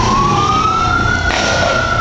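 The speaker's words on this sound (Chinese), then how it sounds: "消防车一路鸣笛赶来现场" A fire engine's siren wails steadily and loudly as the truck approaches a burning car on a city road, its pitch slowly climbing over a bed of traffic noise.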